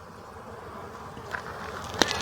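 Honey bees buzz around an open hive on a London farm, a steady close droning swarm with a few sharper passes near the end.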